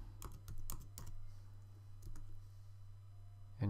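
Quick bursts of keystrokes on a computer keyboard entering a username into a browser login pop-up, a few clustered clicks then a pause, close and clear over a low steady hum.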